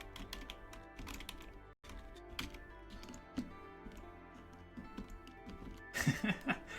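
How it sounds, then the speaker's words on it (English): Rapid, irregular clicking of keys on a computer keyboard runs throughout, close and moderately loud, with a short pause partway and a brief burst of light laughter near the end. "I was just typing this."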